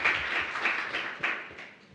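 Audience applause at a Python programming conference, a steady mass of many hands clapping that stays fairly loud across two seconds without fading out.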